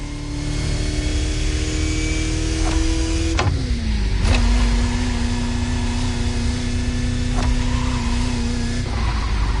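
Vintage Bugatti driven along French countryside roads in The Crew Motorfest, its engine droning steadily with gear changes and pitch dips, loud and close throughout with no talk.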